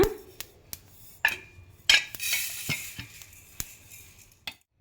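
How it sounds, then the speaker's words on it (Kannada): Niger seeds dry-roasting in a pan give off scattered sharp crackles and pops, with occasional scrapes and stirring clinks of a utensil against the pan, close and fairly quiet. "ನೋಡಿ ಈ ಥರ ಚಟಪಟ ಅಂತೇಳಿ ಆಗಬೇಕು ಅಷ್ಟರ ಮಟ್ಟಿಗೆ ಹುರಿದ್ರೆ ಸಾಕಾಗುತ್ತೆ"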